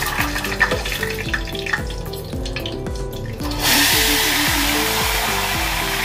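Ghevar batter poured into hot ghee sizzles and crackles loudly, a dense frying hiss that swells sharply partway through, with rhythmic low splashing pulses as more batter drops in.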